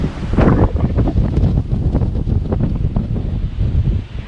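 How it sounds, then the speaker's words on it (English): Strong gusty wind buffets the microphone on a mountaintop observatory on Ulleungdo island, loud and continuous with rumbling surges and no talk. "It is super windy."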